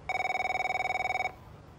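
A telephone rings in the racing game F1 23, one continuous bright electronic trill pulsing rapidly for about a second before cutting off.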